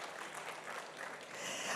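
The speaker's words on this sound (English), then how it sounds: "Give them a big applause" Brief burst of conference audience applause after a talk on generative AI, a dense, steady clatter of many hands at moderate volume, rising slightly toward the end with no voices.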